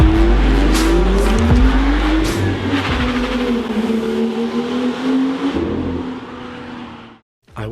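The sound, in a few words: BMW M2 manual burning rubber, tires squealing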